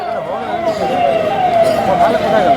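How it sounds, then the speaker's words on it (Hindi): Ambulance siren passing through a crowded public political rally in Purulia, West Bengal, its wailing tone sweeping steadily downward as it moves past, heard under continuous loud crowd noise and talk over a PA. "एम्बुलेंस को थोड़ा बढ़िया से रास्ता दे दीजिएगा"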